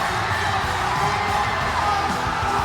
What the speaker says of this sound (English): Hear the crowd roar.